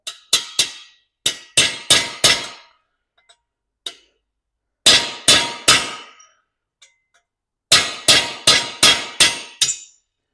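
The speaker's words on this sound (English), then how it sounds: "So here's a hammer. And here's a punch. So go ahead, Link, and give that a few taps and bend that tab down." A hammer taps a metal punch to bend down a tab on a jack stand, sharp metallic clinks arriving in quick clusters of three to five strikes separated by short pauses, close and bright.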